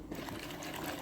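Water being poured into karantika batter, a short soft trickle of liquid heard faintly and steadily from close by.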